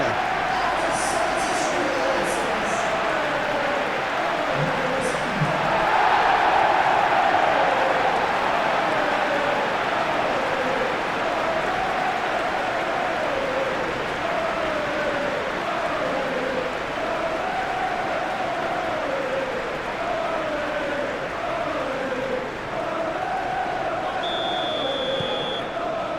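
Stadium crowd in a football video game simulation of Manchester United vs Brentford, a steady loud roar with rising chants that continues alone throughout.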